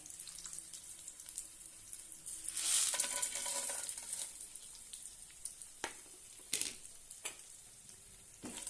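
Chana dal, urad dal and peanuts frying in oil in a pan, a soft sizzle with a louder hissing burst early on, then scattered light clicks and stirring scrapes.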